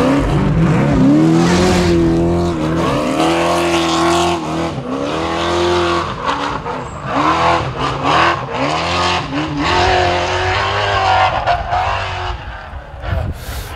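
A trophy truck engine roars as the truck drives hard off-road, loud and close throughout, with rising and falling revs, gear shifts and bursts of acceleration plus some tire scrabble.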